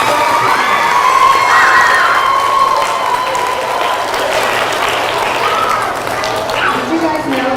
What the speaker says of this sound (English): All right, clap for yourselves